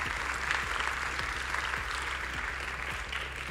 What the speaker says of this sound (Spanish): un aplauso para Arturo